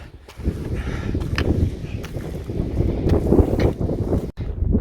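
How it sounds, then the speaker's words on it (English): Strong wind buffets the microphone high in big mountain country in New Zealand's Rangitata, a loud, steady roar with gusty surges throughout and a brief dip near the end. "The wind is really picking up."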